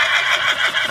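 A horse neighs at a stud farm in Ireland, a loud, close whinny that warbles and holds steady for about a second, standing alone with no talk over it.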